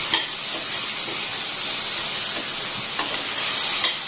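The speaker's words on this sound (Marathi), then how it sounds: "हे तांदूळ आपण तुपात हे करून परतून घेणार आहोत" Rice being sautéed in ghee gives off a steady sizzling hiss, broken by several soft scraping stirs of a spoon through the grains, with no one speaking.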